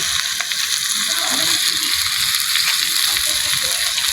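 Onion and garlic fry in a hot pan for a fish curry, a loud steady sizzle and crackle that fills the whole stretch with no talk over it.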